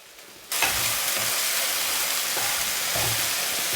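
Okra (lady's finger) sizzles hard in a hot pan as it is stir-fried for mezhukkupuratti, a loud, steady hiss that bursts in abruptly and holds throughout, with faint stirring scrapes underneath.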